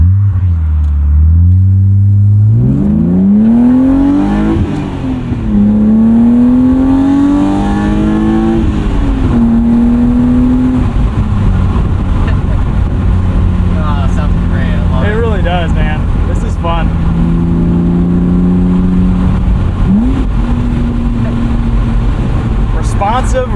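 A 1998 BMW M3 E36 with 250,000 miles, windows down while driving, its engine rising and falling through repeated revs and gear changes, loud and continuous, with people talking over it.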